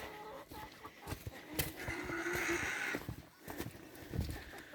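Several chickens cluck and murmur nearby in a coop, with scattered knocks and shuffling noises in an enclosed space.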